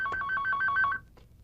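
A telephone rings with a rapid two-tone electronic trill in several quick bursts. It stops about a second in, and a faint voice follows.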